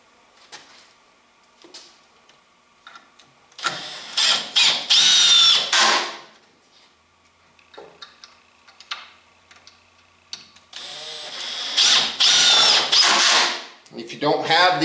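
Power drill driving two 3-inch screws into a wooden reloading bench, two loud bursts of whirring several seconds apart, close by, with quiet handling and clicks between them.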